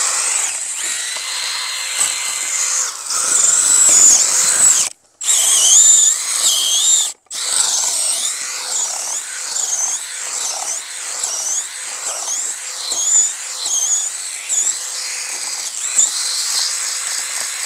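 A cordless drill whines steadily as it routs a cavity directly into wood, the pitch wavering with load, with two brief cut-offs early on before it resumes continuously.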